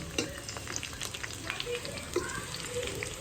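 Chicken goes into a pan of browned onions and sizzles steadily, with stirring scrapes and a couple of sharper clinks from the utensil, close and continuous, with no talking.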